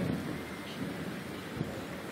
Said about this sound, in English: Thunderstorm, man.